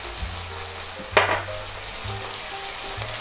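Meat, tongue and beef cuts, frying in a pan: a steady soft sizzle throughout with a brief sharper crackle and stir about a third of the way in, no voices.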